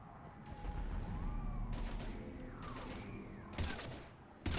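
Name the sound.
gunfire in the video game Mass Effect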